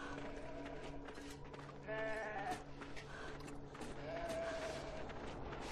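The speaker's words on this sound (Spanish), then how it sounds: "Ahí están nuestras amigas ovejas." Sheep bleat a few times in the video game Beyond Two Souls, faint and somewhat distant, heard over a quiet ambient background.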